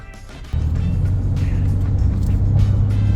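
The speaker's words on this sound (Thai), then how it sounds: "ซึ่งยาง Open Country AT3 ครับ พออยู่ในถนนดำถนนไฮเวย์ถนน ลาดยางถนนคอนกรีตครับเงียบเหมือนยาง ST เลย" Steady low road rumble and tyre hum inside a moving Ford Raptor on Toyo Open Country AT3 all-terrain tyres on a highway, droning continuously after a step up in level, with no voices.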